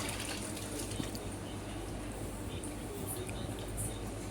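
A household tap runs hard in a home where clothes are being washed, a steady broadband rush of falling water continuing evenly throughout with no talk over it.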